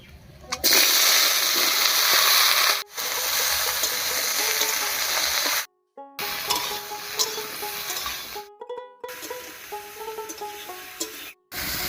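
Water lily stems dropped into hot mustard oil with cumin seeds and a bay leaf, sizzling and hissing loudly in bursts, with stirring clatter and brief quiet gaps between.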